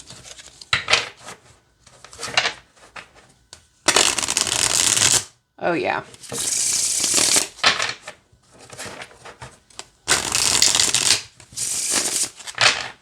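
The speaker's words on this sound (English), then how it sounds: "Well, all right, let's see how it shuffles." Cards being riffled and bridged in several loud bursts, crisp and close, with brief pauses between; a voice speaks briefly.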